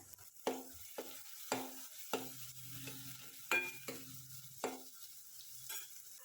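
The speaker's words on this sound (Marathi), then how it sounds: "आणि हे पुन्हा एकदा छानपैकी आपल्याला परतून घ्यायचं आहे" Ginger garlic paste being sautéed in a pan for dal khichdi: a soft, steady sizzle sits under regular sharp clinks and scrapes of a spoon stirring against the metal, close up and quiet, with no talking.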